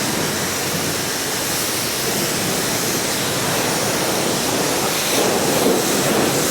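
Soap spraying onto a coach at a car wash, a steady loud hiss of spray that runs unbroken throughout and swells slightly near the end.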